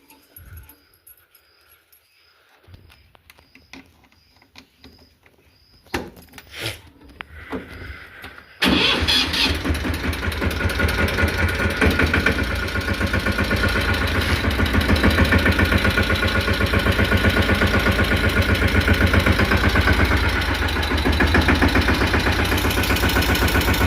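After quiet clicks and a cranking attempt, a tractor engine fires up loudly and settles into a steady, rumbling idle that continues to the end.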